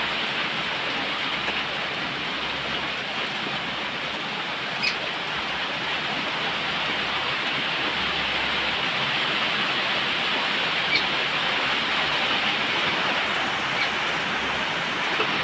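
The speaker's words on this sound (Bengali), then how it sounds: "আবার ঝমঝমিয়ে বৃষ্টি শুরু হয়ে গেল" Steady, dense rain pours down continuously, a loud even hiss with a few faint sharper patters, no voices.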